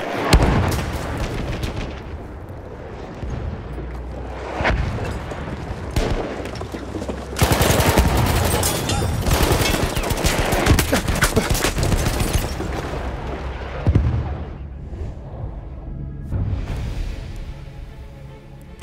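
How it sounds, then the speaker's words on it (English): An artillery barrage and rifle and machine-gun fire in Battlefield 1 roar in dense, loud waves, heavy booms and rattling bursts piling up with a surge midway, then easing toward the end. "The enemies are being halted by our artillery barrage."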